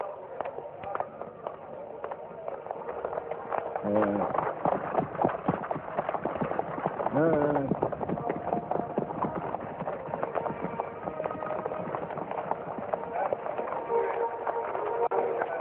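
Horse hooves clip-clop steadily through the whole stretch, a continuous busy rhythm of hoof strikes at moderate loudness with a dense background.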